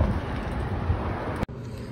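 Steady wind buffets a microphone outdoors with a broad, low roaring rush that cuts off abruptly near the end.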